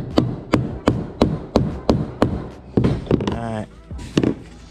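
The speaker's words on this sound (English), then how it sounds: "I might get like a rubber hammer and hit it down to make sure it's nice." A rubber mallet pounds a keel guard onto a kayak hull: about eight evenly spaced, close, dull thuds in a steady rhythm, followed by a few more knocks as a voice speaks.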